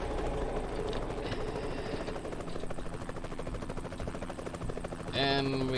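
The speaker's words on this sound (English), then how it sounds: "And we got a helicopter kind of adding some background noise" A helicopter in American Truck Simulator drones as a steady buzzing rotor hum throughout, moderately loud and continuous behind the game's engine noise, with a brief tonal chime near the end.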